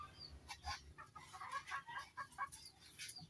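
A rooster and hens at feeding time cluck and chatter softly in short overlapping bursts, faint and somewhat distant, with no voices.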